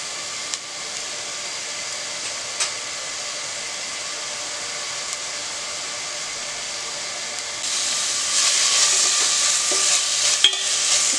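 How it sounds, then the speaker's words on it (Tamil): Onions sizzle steadily in a frying pan, a continuous hiss broken by a few soft scrapes of stirring, growing slightly louder toward the end. "இந்த வெங்காயம் நல்லா வதங்கணும். கொஞ்சம் கலர் சேஞ்ச் ஆகிற அளவுக்கு வதங்கணும்."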